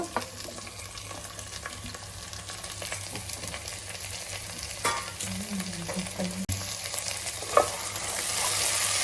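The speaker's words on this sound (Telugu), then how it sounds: "ఇప్పుడైతే నేను ముందు కట్ చేసుకున్న వెజిటేబుల్స్ అన్నీ వేసేస్తున్నాను." Chopped vegetables for veg pulav, tipped into a pan over golden-brown onions, sizzle steadily with occasional stirring clinks and scrapes, close and continuous with no talking.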